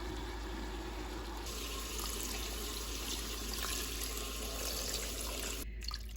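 Water pours steadily into a jar for several seconds, a continuous rushing splash that cuts off sharply near the end.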